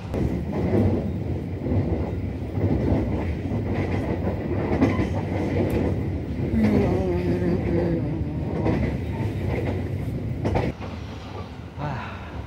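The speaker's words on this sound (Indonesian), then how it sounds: "Dan ini keretanya juga larinya mulus banget, enak banget." Dharmawangsa passenger train running smoothly on rails, a steady close rumble with soft rhythmic wheel clatter heard from inside the carriage, continuous throughout with a faint shift near the end.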